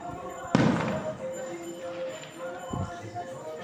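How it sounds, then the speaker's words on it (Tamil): Firecrackers burst at a Shiva temple during a festival day, two sharp bangs a couple of seconds apart over a busy outdoor background with voices. "பார்த்தீங்களா, சிவன் கோயிலில் பட்டாசு அடிக்கிறாங்க."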